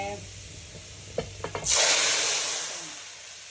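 A few light clinks come first, then cumin seeds hit hot oil with a sudden loud sizzle that holds and slowly softens.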